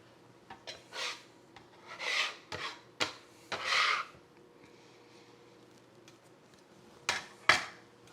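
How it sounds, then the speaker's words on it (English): Fresh black pepper is cracked in a grinder over tomato soup: several short rasping grinding bursts up close, with quiet pauses between them and a couple of small knocks, and no one talks. "I like some black pepper, freshly cracked"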